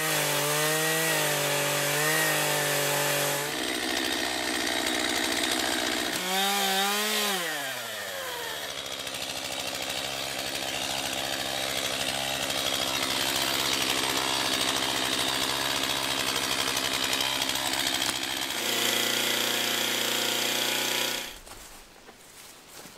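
A chainsaw cuts a groove into a wall log of a log shelter, its engine revving and bogging as it bites into the wood, loud and continuous for about twenty seconds before stopping.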